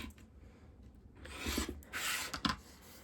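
Rasping scrape of a rotary cutter or blade trimming a pieced fabric quilt unit against a ruler, a few short close strokes over a quiet room.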